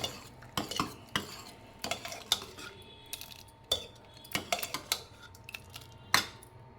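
Cooked gram being stirred and mashed in a pot, with a spoon scraping and knocking against the metal in irregular bursts, close and moderately loud, with no talk.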